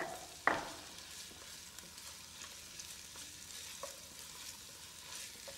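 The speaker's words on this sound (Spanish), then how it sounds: "Este sofrito de cebolla y de jamón" Onion and ham sofrito frying in a pan: a quiet, steady sizzle with occasional light scrapes, opening with a sharp clink of a utensil, heard alone at low level.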